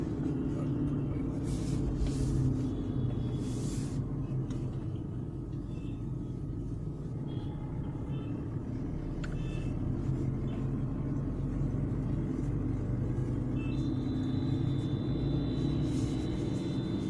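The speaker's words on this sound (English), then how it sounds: "Literally driving through Ajmer." Car driving along the NH58 highway through Ajmer, Rajasthan, with a constant low road rumble and engine drone throughout and a few brief, faint horn-like tones on top.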